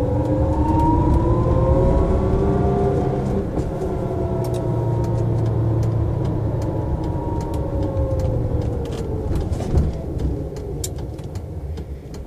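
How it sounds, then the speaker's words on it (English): Other vehicles' engines heard from inside a quiet electric Volkswagen Beetle, a muffled low drone with gently rising and falling engine tones from nearby traffic, steady and moderately loud throughout. "All you can hear is everyone else's engines."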